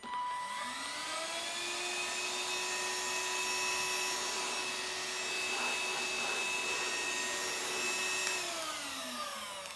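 A Silvercrest cordless cyclonic vacuum cleaner from Lidl runs steadily in eco mode, giving a continuous whining motor hum with a faint rattle of debris partway through, alone and without speech.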